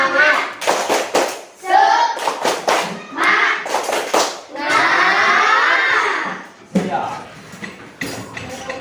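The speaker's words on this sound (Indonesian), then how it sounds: "Berdiri dulu, tepuk semangat." A classroom of children claps a rhythmic cheer in quick bursts of hand claps mixed with loud shouted chanting, close and lively, with a pause before a final round.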